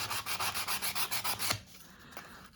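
Hand sanding with sandpaper, following coarser grit, makes steady rhythmic back-and-forth rasping strokes, close and fairly loud, for about a second and a half before it stops and a few faint scrapes follow.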